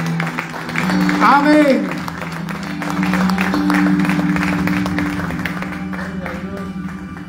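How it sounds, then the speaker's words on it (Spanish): A church congregation applauds for the Lord during a Spanish-language service, moderate clapping and crowd noise mixed with voices and music throughout. "¿Cuántos le dan un fuerte aplauso al Señor?"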